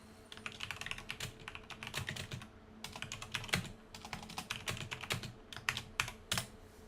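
Rapid, uneven keystrokes on a computer keyboard as a prompt is typed, close and clear in bursts with short pauses, no voices.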